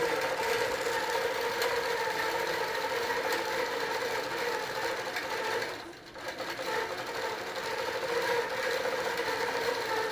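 A computerized quilting machine runs steadily, stitching a quilt held in a hoop frame, giving a continuous mechanical whir with a brief dip partway through and no talking.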